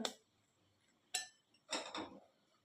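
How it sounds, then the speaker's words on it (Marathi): A spoon mixes hot water into rice flour in a bowl, making a few separate sharp clinks and scrapes against the bowl with quiet pauses between them, close by. "अशा पद्धतीने आपल्याला हे गरम गरम असताना चमच्याने छान असं मिक्स करून घ्यायचं आहे"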